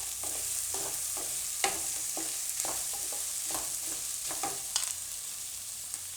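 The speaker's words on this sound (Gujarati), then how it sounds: "વચ્ચે વચ્ચે આપણે હલાવતા રહીશું આ રીતે" Onions fry quietly in a pan while being stirred now and then, a soft even sizzle punctuated by light spoon scrapes and taps at irregular intervals.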